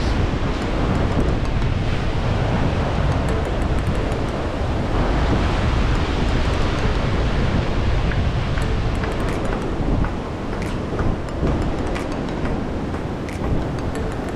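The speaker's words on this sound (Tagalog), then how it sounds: "Ba't maalon? Maalon, no?" Rough sea waves surging and crashing in a steady, dense roar, with wind buffeting the microphone throughout and no speech.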